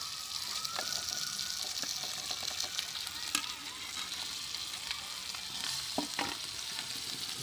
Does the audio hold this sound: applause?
no